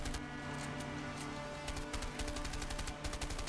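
Rapid bursts of gunfire from the video game A Way Out crackle for a few seconds as dense, closely spaced shots over a steady background drone, with no one talking.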